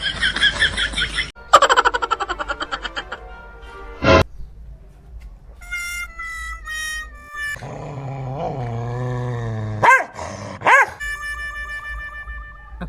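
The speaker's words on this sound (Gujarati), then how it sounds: "આ કૂતરો કેમ મને ઘુરકાય છે" A dog growls and snarls in rough bursts alongside playful, laugh-like yelps and tonal whines, loud and close, with no talking.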